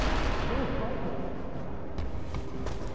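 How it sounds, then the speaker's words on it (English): Grenade blasts and gunfire in the video game Sniper Elite V2 form a dense, continuous rumble of explosions and shots, with several sharper bursts late in the stretch. "They're throwing grenades!"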